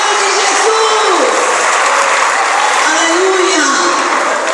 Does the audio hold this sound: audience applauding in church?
yes